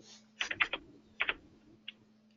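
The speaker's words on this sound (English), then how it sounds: "I've got a mechanical keyboard and forgot to mute my mic." Typing on a mechanical computer keyboard comes through an open microphone in an online class, sounding as a few quick clusters of soft key clacks with pauses between them over a low steady hum.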